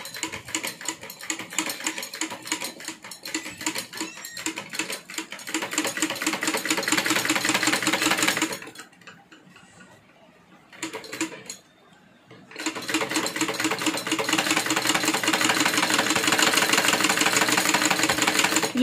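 A sewing machine stitches fabric for a washing machine cover in a fast, even mechanical rattle. It runs for several seconds, pauses briefly with a few quiet handling sounds, then resumes stitching, loud and close.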